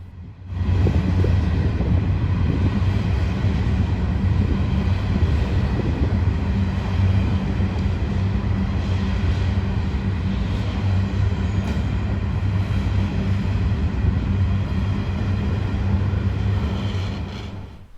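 A long Pacific National coal freight train of many hoppers accelerates past Sandgate Station on the Hunter Line, giving a loud, continuous rumble and rolling clatter of wagons that holds steady for the whole stretch before cutting off at the end.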